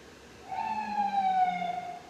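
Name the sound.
emergency vehicle sirens on Brooklyn streets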